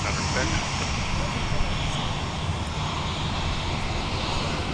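Boeing 737 and 757-300 jets taxiing close together on a taxiway at MSP airport, giving a continuous broad engine roar at moderate distance that holds steady throughout, with a voice talking over it.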